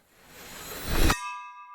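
Dragon Bell in the video game Dragon Loop: a swelling rush that ends abruptly in a bright, clear chime with a short ringing tail.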